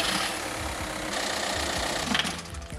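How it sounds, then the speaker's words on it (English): A steady, rumbling engine drone with a fast mechanical chatter, running continuously at fairly close range with no voices. "We were recording like car engines."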